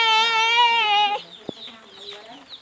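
Chickens squawk in a harsh, shrill outburst as they fight, then settle into quieter scattered clucking with a brief thump.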